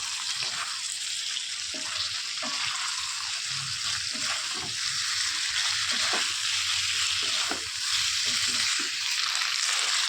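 Fried chicken momos are stirred through sauce in a hot pan, with a steady loud sizzle throughout and soft irregular knocks and scrapes of the spoon moving them around.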